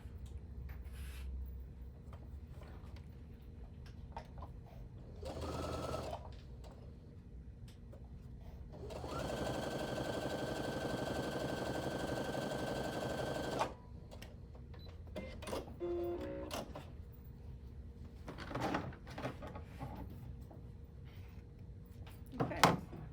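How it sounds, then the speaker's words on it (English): A sewing machine stitches fabric in one steady, whirring run of about five seconds, with a shorter burst just before it and quiet handling sounds between. "I'm going to sew it on the exact same side."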